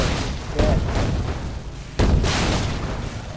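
Fireworks explode in the zombie video game Dead Rising 3, two loud booming bursts about a second and a half apart, each followed by a rumbling crackle that lingers over a steady noisy game background.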